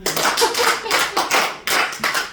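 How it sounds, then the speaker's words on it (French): A church congregation claps in rhythmic bursts, several hands beating together at a steady pace with short pauses, moderately loud and without voices. "Acclamons le roi des rois."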